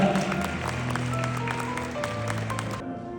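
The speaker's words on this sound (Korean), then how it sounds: "여러분, 박수 부탁드리겠습니다." Wedding guests clap together, a steady wash of applause heard alongside sustained musical tones, ending abruptly after about three seconds.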